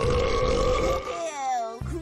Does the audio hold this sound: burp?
yes